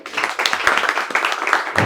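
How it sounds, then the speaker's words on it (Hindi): A group claps enthusiastically for a student at an AC PCB repair training institute, a brief burst of dense, steady applause close by. "चलिए एक बार इनके लिए जोरदार ताली।"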